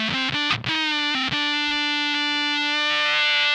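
An Ooh La La Synth Mangler fuzz pedal with both fuzz channels engaged, producing a thick, buzzy distorted synth-like tone with a couple of brief dropouts and a sustained harmonic drone, loud and continuous.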